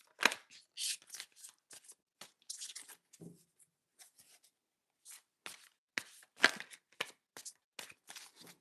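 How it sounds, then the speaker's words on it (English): Tarot cards are shuffled in quick, crisp riffling bursts with brief pauses between, close up and fairly quiet. "let me shuffle this back, and then we'll do Misha's reading."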